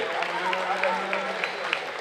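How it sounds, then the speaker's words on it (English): Applause from a crowd at a junior livestock show as heifer exhibitors leave the ring, a steady wash of fairly faint clapping that carries on throughout. "give all of our semicolon exhibitors a great round of applause as they exit"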